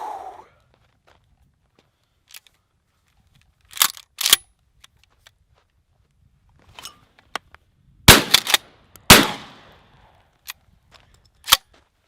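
A shotgun fires at an outdoor shooting range, with several sharp, loud, close reports spaced irregularly and separated by near silence, a cluster of blasts coming late.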